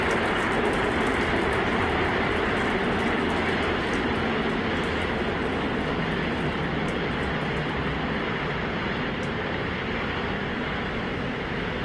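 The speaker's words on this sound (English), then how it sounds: "33 Raptor engines powering the first stage." SpaceX Starship's first stage with 33 Raptor rocket engines firing in flight, a loud, continuous broadband roar that holds steady throughout with no voices.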